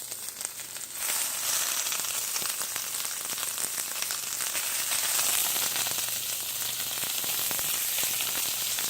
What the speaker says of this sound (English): you just start plopping them on and you'll hear them sizzle.